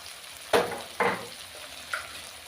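Coriander leaves sautéing in hot oil for a tangra fish curry give three short, quiet bursts of sizzling as they are stirred, with faint crackle between.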